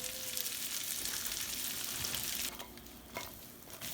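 Onions caramelizing with butter and a little sugar in a hot pan give off a steady, close, bright sizzle that drops in level near the end, with occasional stirring sounds and no talking.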